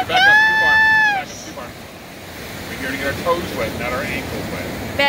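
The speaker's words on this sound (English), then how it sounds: "Look at those waves." Atlantic Ocean surf breaks and washes up the shore, a broad, steady roar mixed with strong wind buffeting the microphone, and faint voices in the background.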